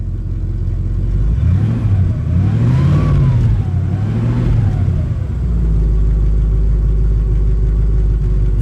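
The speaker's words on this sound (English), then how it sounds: "Go ahead, give it a rev." A 1961 Cadillac Eldorado Biarritz convertible with a single exhaust revs twice in quick swells over its deep, loud, close idle, then settles back to a steady rumble.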